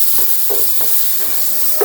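Ground coriander and cumin are stirred into cauliflower in a pan over medium heat for cauliflower korma: a steady frying hiss with a few soft scraping strokes of the spoon.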